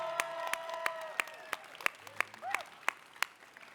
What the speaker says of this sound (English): Let's give another applause for West Oakland Middle School.